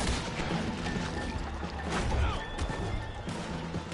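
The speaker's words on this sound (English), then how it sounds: "Horses are over there!" Horses whinny and neigh amid a noisy Red Dead Redemption 2 game soundscape of hooves and scattered gunfire, fairly loud and dense throughout.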